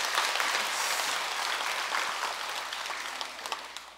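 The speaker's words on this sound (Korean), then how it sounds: "박수 한번 치세요." A temple congregation at a Sunday Buddhist dharma service at Jogyesa applauds steadily; the clapping is moderately faint and continuous, easing off slightly toward the end.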